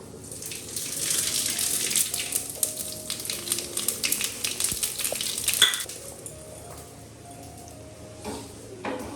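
Dried red chillies and cumin sizzle in hot oil for a khichuri tempering, a steady close frying hiss with stirring and occasional utensil clinks, fading toward the end.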